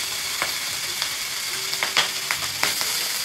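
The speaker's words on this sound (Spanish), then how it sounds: "La panceta la queremos dorar" Cut pancetta browns in olive oil in a pan, a strong continuous sizzle with a few sharp clicks and scrapes from stirring scattered over it, close and without voices.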